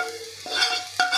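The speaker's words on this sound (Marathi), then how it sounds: "आता हे चांगलं मिक्स करून घ्यायचं" A spatula scrapes through cooked rice mixed with coconut and jaggery in a pan over a low flame for narali bhat, two quick close scrapes over a soft background sizzle.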